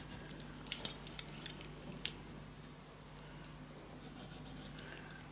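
A pen marks a measurement on papercraft material for a travel suitcase mini album, giving faint, close scratchy strokes and small taps in short bursts over quiet room tone, no talk.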